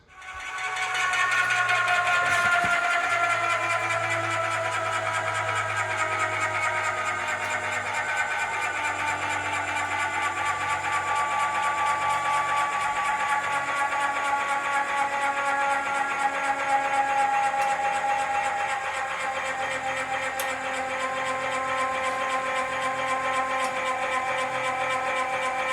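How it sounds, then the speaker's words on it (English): An electric scissor jack lifting a truck runs continuously with a steady motor whine and a gradually shifting pitch, loud and close, starting abruptly and holding for the full duration without pause. "we're gonna use that scissor jack, that electric scissor jack, and we're gonna lift this whole truck up"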